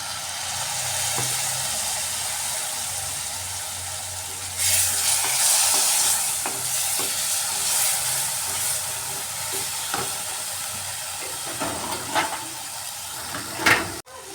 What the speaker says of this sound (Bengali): এবার এর মধ্যে সামান্য জল দিয়ে আবার একবার ভালোভাবে কষাতে হবে